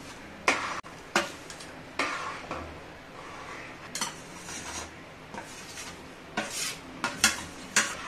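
Metal spoon scraping and clanking around a pot of semolina kesari in irregular strokes, with a faint background hiss and no talking.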